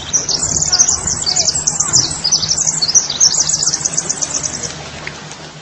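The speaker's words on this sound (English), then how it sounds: "When we hear the sound of the earth, we can see it sounds deeply similar to the sounds of birds singing." A recording of Earth's own sounds, heard by NASA scientists, comes through as a stream of rapid, high, bird-like chirps and twitters repeating steadily over a faint low hiss.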